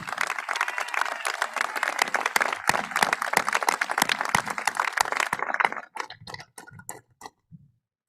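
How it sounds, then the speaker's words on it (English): A large high school graduation crowd applauds the faculty, a dense, loud burst of clapping that runs steadily for over five seconds, then thins to a few scattered claps before fading out. "Students, please rise, face the faculty, and applaud them for their work."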